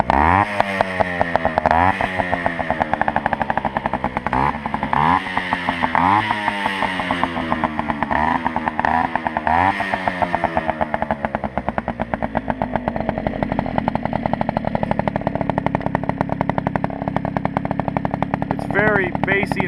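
A Yamaha Chappy moped with an MLM aftermarket exhaust pipe runs close by, a deep, throaty engine note blipped and revved in repeated rising pulls before settling into a steady, loud idle.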